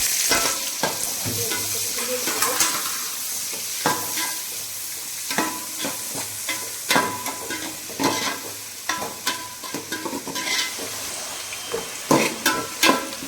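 Onions with fennel seeds, cinnamon and other whole spices frying in a pot, a constant sizzle broken by frequent sharp scraping and clanking stirring strokes, close and busy, no talking.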